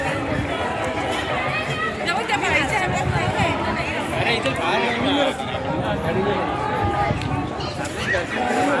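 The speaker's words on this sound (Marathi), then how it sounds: "आज संडे असल्याकारणाने खूप गर्दी आहे" A dense Sunday crowd murmurs at the Prati Balaji temple in Narayanpur near Pune, a steady babble of many overlapping voices with scattered footsteps, while a nearby person talks over it.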